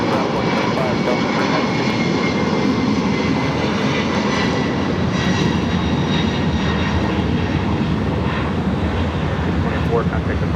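Airliner engines roar steadily and loudly at Los Angeles LAX airport, a continuous broad rumble filling the whole stretch with no pauses.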